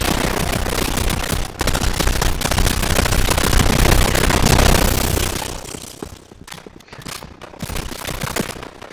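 Sustained rapid-fire gunfire in Fortnite, a loud continuous rattle of shots with bursts and echoes that thins out toward the end.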